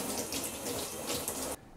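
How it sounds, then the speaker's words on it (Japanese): Cold water runs steadily from a kitchen faucet to cool freshly boiled watercress, a close, continuous splashing rush that stops abruptly near the end. "冷水に取ります。"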